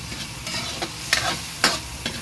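Tomatoes fry in a hot pan with a constant close sizzle, while a utensil stirs and scrapes them in a few sharp strokes over the steady hiss.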